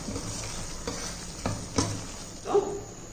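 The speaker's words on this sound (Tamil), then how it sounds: "இதை ஒரு வதக்கிடுவோம்." Mashed chickpea gravy sautés in a pan, a soft continuous sizzle broken by several scraping stirs of a spoon against the pan, close and alone without talk.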